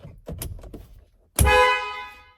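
A few soft clicks and rustles, then one loud, sustained Ford F150 car horn honk close by lasting about a second.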